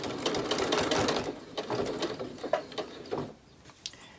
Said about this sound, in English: with my needle down, lift my presser foot and turn, and again, and I'm going to sew right across